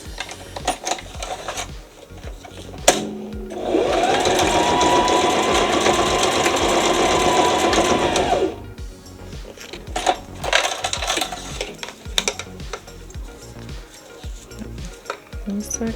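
A sewing machine runs steadily for about five seconds while back stitching an adjustable strap. It sounds loud and close, with quieter handling clicks before and after.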